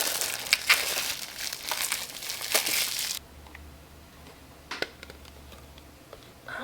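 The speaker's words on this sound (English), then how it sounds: "Let's go ahead and unwrap it and everything and show you what's inside." A watercolor palette package is unwrapped close up, with crinkling and tearing plastic for about three seconds, then quieter scattered ticks and rustles against a faint background.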